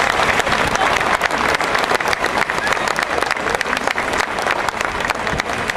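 A concert audience at a fado performance claps steadily and loudly for a guest singer, a dense continuous wash of applause lasting several seconds without pause.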